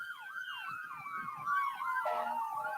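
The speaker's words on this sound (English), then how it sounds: "And those sirens, hey everybody, very impressive." Police car sirens from the East Dublin Police wail at the 2023 St. Patrick's Day parade in Dublin, Georgia, overlapping rising-and-falling yelps repeating rapidly at moderate distance over outdoor crowd noise.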